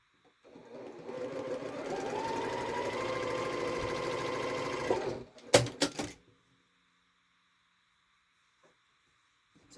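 A sewing machine stitching two quilt rows together runs in one steady whirring burst for about five seconds, then stops with a few clicks and handling knocks before falling quiet.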